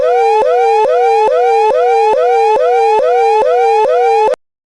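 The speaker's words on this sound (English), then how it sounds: "This is an early earthquake warning from the United States Geological Survey, in coordination with Shake Alert Early Earthquake System." Earthquake early warning emergency alert tone: a loud, piercing repeating whoop-like siren pattern, about ten rising cycles in quick succession, then abrupt silence, with no voices.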